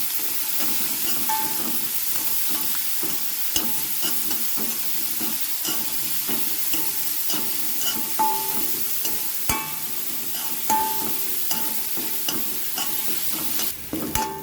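Chopped snake gourd and other ingredients frying in a pan for mallum, a steady close sizzle with scattered clicks and scrapes of stirring throughout, no voices.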